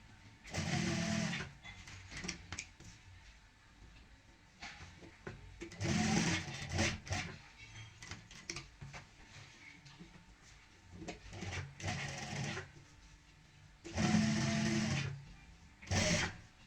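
A sewing machine stitches a half neck collar in close, repeated runs of a few seconds each, separated by quiet pauses, at a moderate level with no talking.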